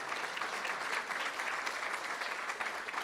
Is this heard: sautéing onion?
no